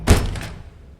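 A door in the horror game The Baby in Yellow swings open with one heavy thunk, loud and close, followed by a short fading rumble.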